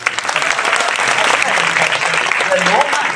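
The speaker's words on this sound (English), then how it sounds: "can you clap with me?" An audience claps at a Christmas carolling concert featuring musicians with special needs, a lively, dense round of applause under light crowd voices and cheers.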